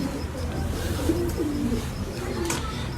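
Pigeons in a loft coo in low, rolling phrases close by, with a few brief sharper sounds near the end, over a steady background murmur.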